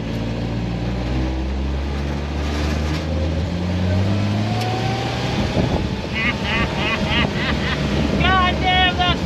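A 1954 Chevy engine runs steadily and loudly nearby, a continuous low rumble with some wind buffeting. Voices talk over it toward the end.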